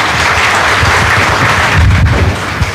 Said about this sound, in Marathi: आशयसाठी आपण एकदा टाळ्या वाजवल्या पाहिजे